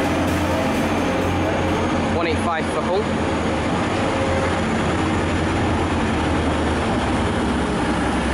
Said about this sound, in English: here's 144013, which has just terminated here and is about to start a new service to Wakefield Westgate.